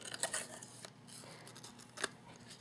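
Scissors trim paper for a scalloped stitched envelope craft: a few crisp snips close up, with a soft rustle of paper between the cuts and a final sharp snip, quiet overall.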